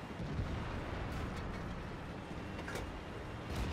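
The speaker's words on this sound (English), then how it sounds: "Enemy vehicle destroyed." A tank being destroyed in World of Tanks, a dense, sustained explosive rumble filling the scene at steady loudness with a few sharp crackling bursts on top and no talking.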